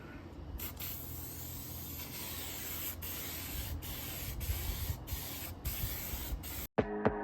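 An aerosol spray can hisses steadily in long bursts with brief pauses while bedliner paint goes onto a Toyota Tacoma truck bumper outdoors, ending with a sharp clack.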